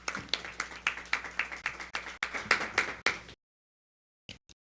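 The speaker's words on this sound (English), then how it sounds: "So how about a big round of applause for Melody Hong?" A small group at a school board of education meeting claps in a brief, rhythmic round of applause, fairly close, ending abruptly into silence with a few stray claps after.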